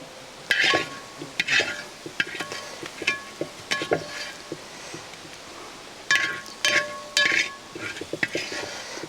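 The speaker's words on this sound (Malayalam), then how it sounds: "ഇനി നമുക്ക് ഇതിലേക്ക് ഈ മസാല നമ്മുടെ പച്ചക്കറിയിലേക്ക് ഇട്ട് കൊടുക്കാം നമ്മുടെ പച്ചക്കറിയിലിട്ടൊന്ന് മിക്സ് ചെയ്യാം" Fried masala is stirred into vegetables in a pot for vegetable biryani, with bursts of spoon scraping and metallic clinks against the vessel over a faint sizzle.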